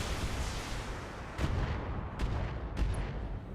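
Mech weapons, including autocannon fire, pound away in BattleTech, three heavy booming shots spaced over a few seconds above a dense rumbling background.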